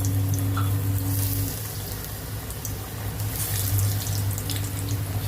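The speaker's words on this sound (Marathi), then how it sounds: "तेल गरम झालेलं आहे, त्यामध्ये आपण एक एक अळूवडी सोडणार आहोत." Sliced alu vadi, colocasia leaf rolls, frying in hot oil, giving a steady, dense sizzling hiss with a low hum underneath that holds at an even level throughout.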